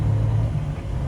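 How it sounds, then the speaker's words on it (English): Cummins X15 semi truck engine running while driving, a steady low, heavy rumble with a droning hum, loud and continuous throughout. "This truck seems pretty dang stout and it seems to run pretty good."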